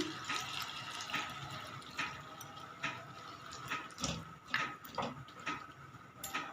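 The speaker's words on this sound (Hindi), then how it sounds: "अब हम इसमें हाफ़ ग्लास ऑफ वाटर डालेंगे।" Half a glass of water pours into a pan of eggplant and potato curry, a soft splashing trickle with several small gurgling surges and drips, fairly faint and with no talking.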